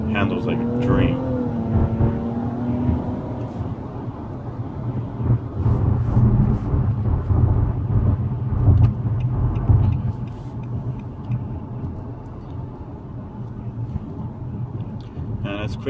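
A 2016 Nissan Maxima S cruises on the road with a steady low engine and road rumble throughout, while a voice talks over it inside the cabin.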